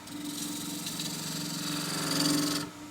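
A 1/2 inch spindle gouge cuts across the bottom of an endgrain wood bowl on a lathe: a steady buzzing hum with a gritty scraping that swells near the end, then cuts off abruptly.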